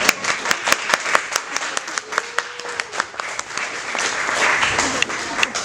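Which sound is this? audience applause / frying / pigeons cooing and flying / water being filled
audience applause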